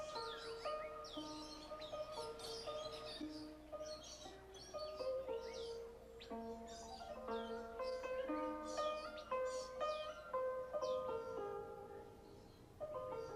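Birds chirp and whistle in the aviary at Jurong Bird Park in Singapore, a soft, distant mix of repeated tonal calls and tweets overlapping over low background sound.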